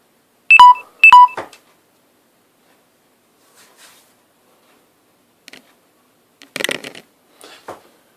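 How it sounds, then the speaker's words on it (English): Two sharp electronic beeps from a phone warning of low battery, close and clear, followed by quiet handling clicks and rustles. "My phone is telling me that it needs to be connected to a charger."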